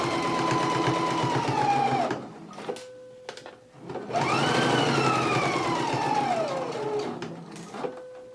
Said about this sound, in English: I'm just stitching right along it